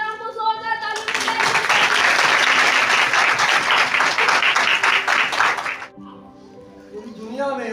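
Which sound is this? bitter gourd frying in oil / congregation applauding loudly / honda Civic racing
congregation applauding loudly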